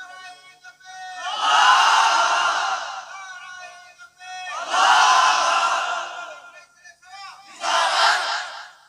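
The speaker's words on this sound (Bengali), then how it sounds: "একজন তাকবীর মানে সবাই মিলে বলেন দেখি কেমন আওয়াজ" A large crowd at a religious gathering shouts the takbir together in three loud, sustained collective roars, each rising and fading, separated by brief pauses with a lone voice leading.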